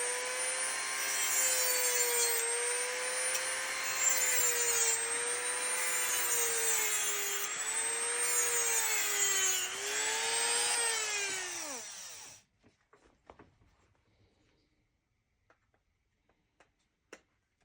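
A high-speed rotary tool with a dull diamond wheel cuts into a screwdriver bit, giving a loud, steady whine that wavers in pitch for about twelve seconds, then winds down and stops, followed by faint scattered clicks.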